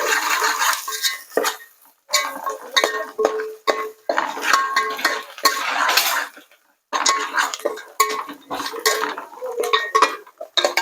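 A metal spoon clatters and scrapes against a pot of khichdi in irregular bursts, with brief pauses and some voices nearby.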